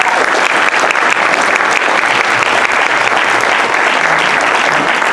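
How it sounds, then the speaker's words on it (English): A symposium audience claps steadily and loudly throughout, a dense, continuous applause with no voices standing out. "Please, a round of applause for these gentlemen."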